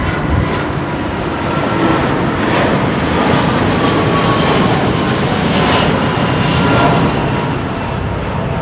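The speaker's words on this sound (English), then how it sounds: "Low departure from Virgin Atlantic. Wow, he's flat out and all." A Virgin Atlantic jet roars loud and close on a low departure at full power, a broad steady engine rumble filling the air throughout.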